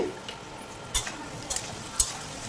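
Soft frying hiss of potatoes and tomatoes with a few sharp scraping stirs of a spatula against a pan, close by, no voices.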